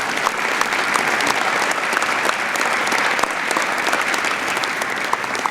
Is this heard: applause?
yes